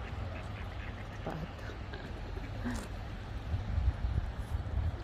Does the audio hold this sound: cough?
no